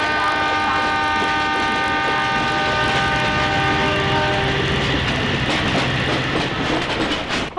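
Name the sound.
train passing with horn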